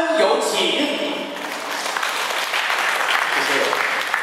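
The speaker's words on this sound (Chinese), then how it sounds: "掌声有请" Applause from an audience at a Hakka opera exchange performance at Dabu, a dense burst of clapping that follows a host's voice and carries on steadily, filling the hall.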